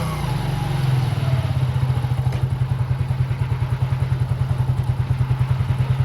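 A motorcycle engine is started and put into first gear, settling into a rapid, steady thumping beat heard close up and fairly loud, with no talking.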